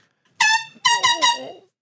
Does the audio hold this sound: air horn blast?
yes